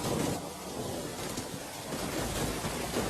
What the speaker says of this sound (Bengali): এখন বৃষ্টির সময়